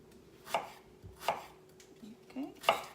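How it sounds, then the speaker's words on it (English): A knife cuts through a halved potato on a cutting board in three sharp, separate chops about a second apart, close and fairly quiet against a soft background hum. "I cut it in half, and then I'm just slicing it like that."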